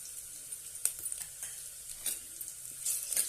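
Ginger garlic paste and slit green chilies sauté in a pan for moong pulao, giving a light continuous sizzle broken by a few sharp metallic clinks and scrapes of stirring.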